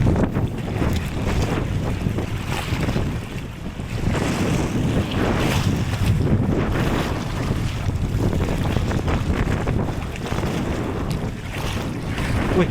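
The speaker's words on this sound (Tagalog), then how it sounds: "Grabe na lakas ng hangin guys." Strong wind roars across a small boat at sea, buffeting the microphone in loud, continuous gusts, with waves and water churning underneath and no talk.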